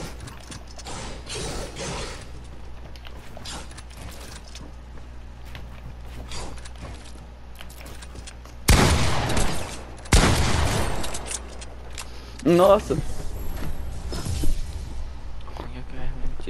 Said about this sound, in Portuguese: Tiro de pump.